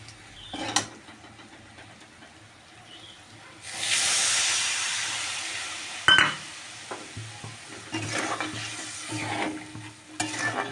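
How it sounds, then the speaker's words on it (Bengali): Hot water poured into a simmering home-cooked curry sets off a burst of hissing sizzle partway through, fading to a softer bubbling simmer with small stirring clinks around it. "গরম জল দেব এর মধ্যে একটু দিয়ে দেবো"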